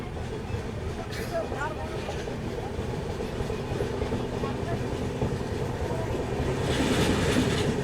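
The Guntur Intercity Superfast Express pulls out of Bhuvanagiri station on the main line with a steady rumble and rhythmic wheel clatter, heard from on board and growing a little louder toward the end.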